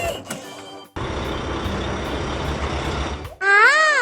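A cartoon dump truck engine runs loudly and steadily for a few seconds after a short gap, then cuts off and gives way to a bright, wavering electronic tone.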